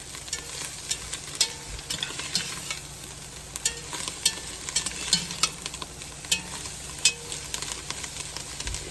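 Potatoes fry in butter in a pan with a steady, close sizzle and crackle, interrupted by occasional sharp ticks and scrapes of stirring.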